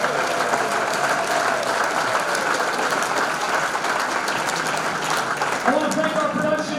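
Audience applause fills a hall of fame sports ceremony, steady and dense clapping from a large crowd throughout, loud and close.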